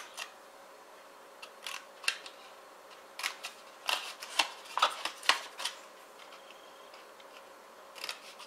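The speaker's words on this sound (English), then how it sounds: "we're going to just cut at these 2 squares and notch them" Scissors snip notches into card, a scattering of short crisp cuts close by in a quiet room, some single and some in quick clusters, with pauses between.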